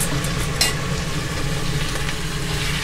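Oxtails sizzle in a pan over low heat while being stirred. A steady frying hiss continues throughout, with a few brief scraping clicks from the utensil near the start.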